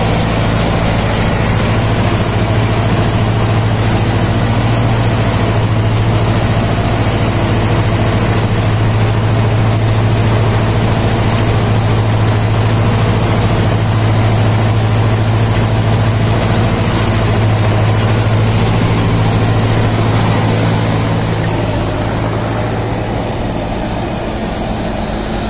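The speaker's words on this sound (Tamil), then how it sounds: "இன்ஜின் சவுண்டு பாருங்க." A Deutz-Fahr tractor's diesel engine runs at a steady idle, giving a close, continuous low droning hum with no breaks across the whole stretch.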